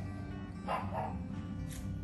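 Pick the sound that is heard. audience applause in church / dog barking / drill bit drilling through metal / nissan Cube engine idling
dog barking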